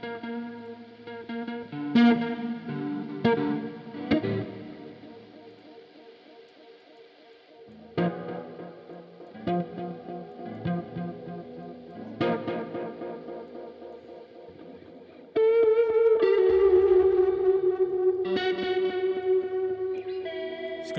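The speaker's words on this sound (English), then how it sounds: "Now I want to get some crazy delays happening." Layered electric guitar chords and plucked notes ring out with trailing delay-effect repeats, then a loud sustained tone swells in over the last several seconds.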